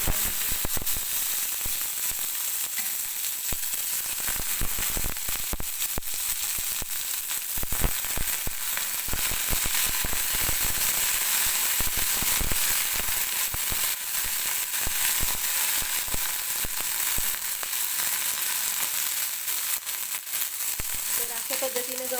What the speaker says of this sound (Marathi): धुवून घेतलेली गवारी मी तेल गरम झाल्यानंतर कढईमध्ये टाकून घेणार आहे